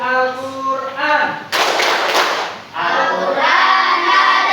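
A classroom of Islamic religious education students claps the Tepuk Al-Qur'an chant, bursts of sharp claps alternating with chanted voices, loud and close in a lively rhythmic pattern.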